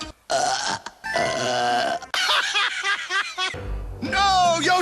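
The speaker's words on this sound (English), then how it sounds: "You should never burp at my face!" Exaggerated cartoon burping from Yoshi in a Super Mario style edit, loud close-up belches cut together rapidly with voiced grunts and chopped sound effects.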